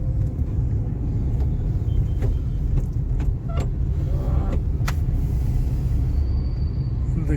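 A car creeps through bumper-to-bumper traffic, with a low, steady engine and road rumble throughout and a few faint clicks and knocks from inside the cabin.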